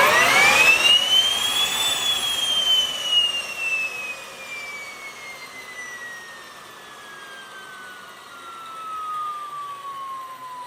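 A Solar T-62-32A turbine engine in a single-seat helicopter spools up with a rising whine, then holds a steady high-pitched tone that slowly falls as it runs on, loud and close with no talk.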